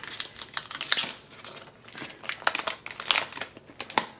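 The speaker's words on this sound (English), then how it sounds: "let's go ahead and unwrap this guy here." Crinkling plastic film being peeled off a new Samsung Galaxy Z Flip 3: close, uneven crackles and rustles in quick bursts, with brief pauses between pulls.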